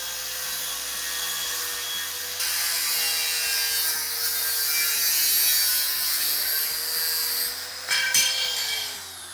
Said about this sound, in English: because I've cut these with an angle grinder